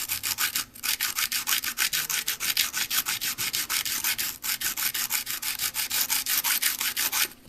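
A camera lens mount is sanded by hand with 150 grit sandpaper, a close, rhythmic series of quick rasping strokes with brief pauses between them.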